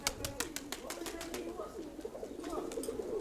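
Pigeons coo repeatedly in a loft, their soft throaty calls mixed with sharp wing claps and rustling close by.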